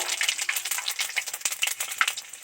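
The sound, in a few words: panch phoron spices frying in oil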